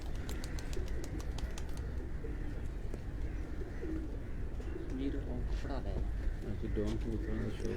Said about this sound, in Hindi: ये वो डान ब्रीड के कबूतर हैं